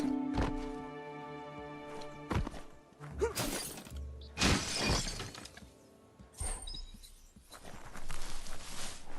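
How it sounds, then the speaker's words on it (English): A wooden box gets smashed in the Biomutant video game, heard as a string of sharp cracking and shattering impacts with crunchy debris and heavy thuds spaced over several seconds, fairly quiet overall. "You shouldn't worry about smashing up the box."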